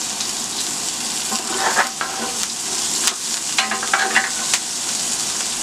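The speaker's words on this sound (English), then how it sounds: "And it's continuing to sear." A T-bone steak sears in oil in a cast iron skillet, giving a steady, close sizzle and crackle with a few brief spatters and no talk.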